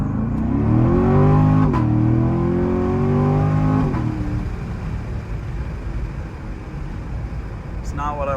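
A 2017 Chevrolet Corvette C7 Z51 launches from a standstill on a road. Its engine roars loud and close, climbing in pitch for several seconds before cutting back and fading to a low rumble.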